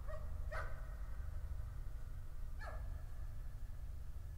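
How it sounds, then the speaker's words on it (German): Two separate barks from a dog in the Layers of Fear video game, spaced about two seconds apart, mid-distance over a steady low, droning background. "Der Hund!"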